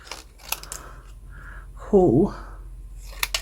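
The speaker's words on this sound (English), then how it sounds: "I'm going to cut this one up as well" Scissors cutting up an old photograph, a short crisp snipping burst up close, with soft paper handling around it and someone talking briefly.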